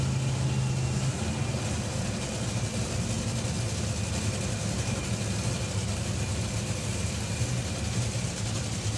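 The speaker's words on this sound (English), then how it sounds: "The next noise you'll hear will be the starters, and then the burble, and then the cackle" A top fuel drag racing car at Santa Pod Raceway in the UK, with starters giving way to a steady low engine burble, droning continuously and fairly loud for several seconds.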